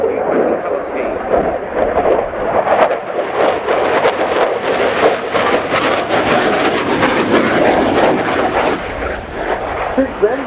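A French Air Force Rafale C jet makes a topside pass at the RIAT airshow, its loud crackling, rumbling engine roar swelling and filling the air while an announcer speaks over it.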